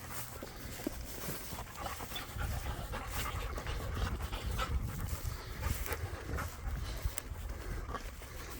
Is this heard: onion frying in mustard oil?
no